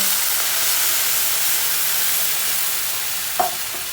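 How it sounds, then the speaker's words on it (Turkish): Boiling water poured into a pot of toasted orzo (arpa şehriye) for pilaf sizzles and hisses in a steady, loud wash throughout, with a brief clink near the end and no talking. "Hiç korkmadan bir su bardağı şehriye, iki su bardağı kaynamış suyu verebilirsiniz."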